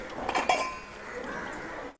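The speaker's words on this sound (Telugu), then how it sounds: "అలాగే అత్తమ్మ ఇక్కడ గిన్నెలు తోముతుంది." Pots and dishes being scrubbed and washed by hand in a village home, with clattering clinks of metal at the start followed by steady scrubbing and rinsing.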